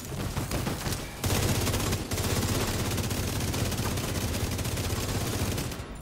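Sustained automatic gunfire in The Division 2, loud, dense rapid bursts running nearly the whole time, briefly dipping around the second mark before resuming with constant crackling shots.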